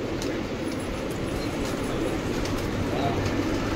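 Pigeons cooing inside a pigeon loft, a soft, continuous low burbling mixed with rustling and background murmur, close and moderately loud throughout.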